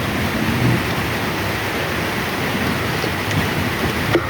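Steady rain falling during a rainy spell, a constant broadband hiss with no breaks, moderately loud and even throughout, with a few faint knocks near the end.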